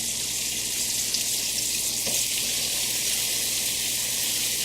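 Salisbury steak patties sizzling in a frying pan, a loud, steady, close crackle of frying fat that runs without a break.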